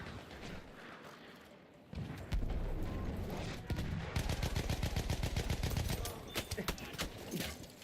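Battlefield 1 gunfire crackles in rapid bursts, quieter and scattered at first, then a dense run of loud rhythmic automatic shots with a few sharp single cracks.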